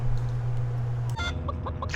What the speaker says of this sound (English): use Ed to head bash the ground to get the chicken stunned